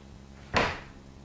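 A heavy handmade wooden tenon panel door, about 100 pounds, moves on its hinges and gives a single dull knock near the middle that fades quickly, heard alone in a quiet workshop.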